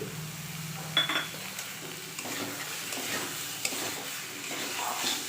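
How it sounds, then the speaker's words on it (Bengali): Fried paneer is stirred in a sizzling pan for matar paneer, a steady frying hiss with scraping stir strokes and an occasional light metallic clink, close and continuous with no voices. "পনিরটা একটু দিয়ে নাড়াচাড়া করে তারপর দিয়ে দিব মটরশুঁটি"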